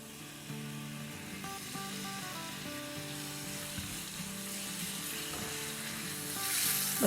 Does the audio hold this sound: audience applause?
no